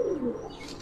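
A Giribaz flying pigeon in a loft corner gives one short, low coo up close, fading within a second with no voices.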